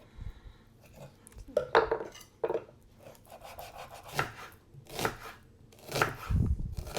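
A sharp knife works through partly frozen pork belly on a board, giving a series of uneven close scraping cuts and taps with brief pauses between strokes, no speech.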